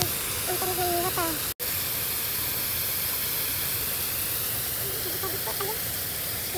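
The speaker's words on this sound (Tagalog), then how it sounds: "Relaxing ang tunog ng water." A stream flows through a garden with a steady, unbroken rush of water that stays close and fairly loud throughout. Faint voices surface briefly near the start and again toward the end.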